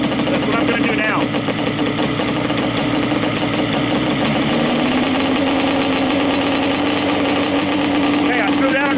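A Yamaha Banshee ATV two-stroke engine idles steadily after its carburetor cable has been adjusted, with a loud, continuous, close buzzing rumble throughout.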